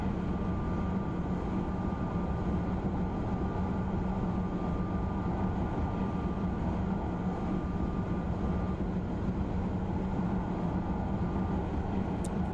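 A high-speed train runs along the LGV Méditerranée in Train Simulator 2016, a steady, loud broadband rumble and roar with a faint thin whine over it, unbroken throughout.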